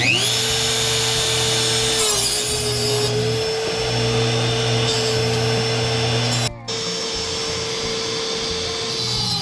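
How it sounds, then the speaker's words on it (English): A Dremel rotary tool whines at a high steady pitch while cutting off protruding brads on kitchen cabinet crown molding, running continuously close by with a brief stop and restart. "I cut off the brads which were sticking out with my Dremel."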